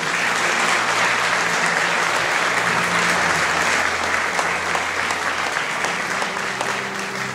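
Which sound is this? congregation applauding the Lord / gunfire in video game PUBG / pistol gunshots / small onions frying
congregation applauding the Lord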